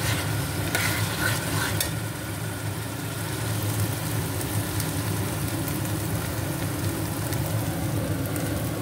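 Chicken marinated in yogurt and salt frying in a pan with green chillies, a constant loud sizzle and crackle with stirring sounds, with no voices.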